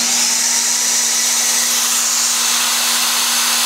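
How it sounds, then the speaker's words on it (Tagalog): An electric drill running steadily off an EcoFlow Delta Pro 3 portable power station, a loud, continuous high whine with a low electrical hum beneath it, close up and without pauses. "Power, then drill."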